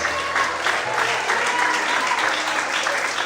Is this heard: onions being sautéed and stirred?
no